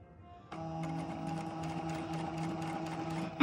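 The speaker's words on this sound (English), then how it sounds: "Keep sewing on the stitching line." A sewing machine starts up and runs at a steady hum with a quick, even needle rhythm while stitching fabric along a kick pleat, close by and fairly quiet.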